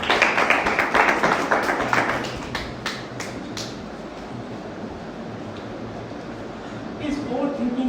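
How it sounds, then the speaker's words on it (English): Audience applause for a speaker at a Toastmasters meeting, a burst of dense clapping for about two seconds, then scattered individual claps fading out, with room noise and a voice near the end. "Can we have a round of applause?"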